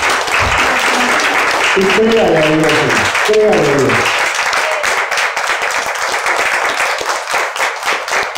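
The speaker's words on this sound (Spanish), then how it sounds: "En un aplauso fuerte al Señor." A church congregation applauds loudly and steadily throughout, with a preacher's voice speaking over the clapping near the middle.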